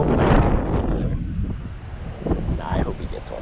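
Wind gusting across a lake on a fishing outing, a steady roaring rumble buffeting the microphone with surges and lulls and faint water sounds beneath it.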